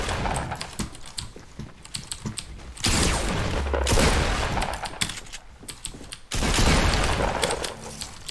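Bursts of gunfire in the video game Fortnite, several loud rapid volleys that come and go amid clicky mechanical sounds, with no talk.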